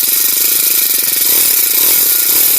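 Honda GX35 grass cutter engine running steadily at high revs after a carburetor adjustment, a loud buzzing two-stroke-like drone, close and continuous with no speech.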